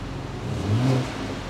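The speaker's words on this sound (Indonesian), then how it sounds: "Sport Plus, kita akan dengar knalpotnya seperti apa." A BMW Alpina in Sport Plus mode gives a short, fairly quiet exhaust rev that swells and fades within a second, heard alone.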